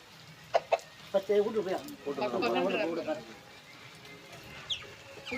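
A couple of sharp clucks from a nearby hen, followed by people talking, then a quieter stretch with a faint bird call.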